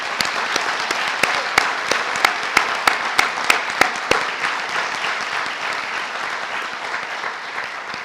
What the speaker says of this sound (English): Can I get one more round of applause for these students?